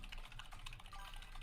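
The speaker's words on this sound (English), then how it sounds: "you would be hearing my keyboard" Rapid, steady clatter of computer keyboard typing during a PokeMMO gaming livestream, close and continuous with dense overlapping key clicks and no pauses.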